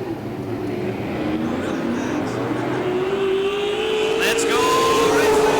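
Late model race cars lapping Bakersfield Speedway during a Budweiser Racing Series Labor Day Classic, engines droning loudly and rising in pitch as the field accelerates past, with a voice briefly calling out over the roar.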